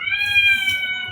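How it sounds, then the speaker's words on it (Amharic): Stray cats meow in a drawn-out, wavering cry, one close and fairly loud call lasting about a second with no talk over it. "የዚህ ሀገር ዱርዬ ድመቶች። እነዚህ እኮ ቤተሰብ የላቸውም፣ የዱር ድመት ናቸው።"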